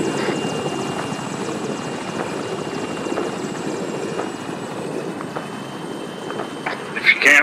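A video game helicopter gives a continuous rotor thump and engine drone in the background, with faint voices and scattered game effects over it and a louder burst near the end.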